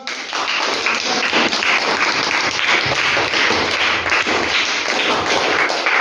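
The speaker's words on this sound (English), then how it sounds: "Claps." Students in a classroom clap together in a steady, fairly loud burst of hand claps lasting several seconds, with no talking over it.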